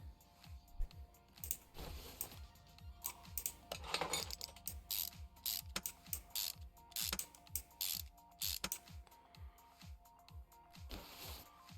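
Rapid ratchet clicking tightens the head bolts on a 1957 Chevy engine in Car Mechanic Simulator, with a steady stream of crisp mechanical ticks in repeated runs, close and continuous with no talk.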